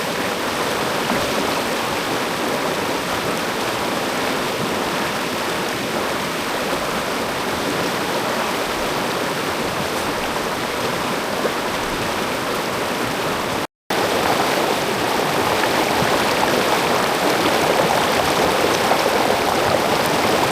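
Steady rushing of a flowing stream, broadband and continuous, with one brief dropout partway through; no voices.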